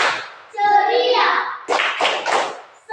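Group rhythmic clapping at a spirited cheer session, with children's voices chanting between bursts of claps, close and energetic.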